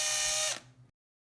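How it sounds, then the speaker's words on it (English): A power drill whirs loudly at high speed for about half a second while drilling a hole in wood for an acoustic guitar kit, then winds down and stops, leaving silence. "drill those holes nice and straight so the screws go in nice and straight"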